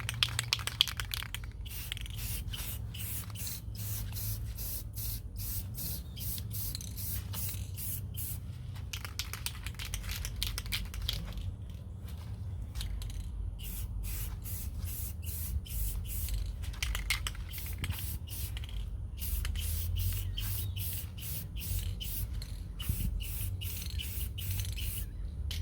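Short repeated hissing bursts of matte clear coat from a spray can, applied in passes over an AR upper receiver outdoors. The bursts come in clusters with short pauses, fairly faint over a low background rumble.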